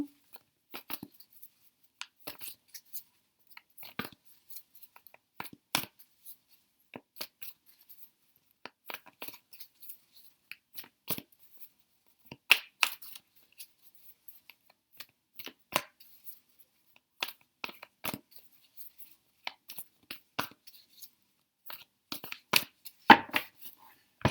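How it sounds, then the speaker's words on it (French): Angel tarot cards being shuffled make sparse, dry rustles and crisp flicks in irregular bursts, close and fairly soft, with near silence between the riffles. "Donc pareil, on mélange les cartes"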